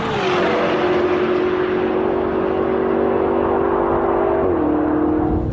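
A heavy 1,855-kilo BMW M5 safety car accelerates hard around a race track, its engine a loud steady drone heard from inside, holding one pitch and then stepping down briefly near the end as it shifts.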